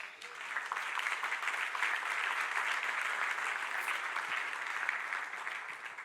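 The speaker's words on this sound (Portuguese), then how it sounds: "Podemos aplaudir Jesus." Conference audience in Portugal breaks into steady applause from many hands, a dense, even clatter that holds loud for several seconds with no one speaking over it.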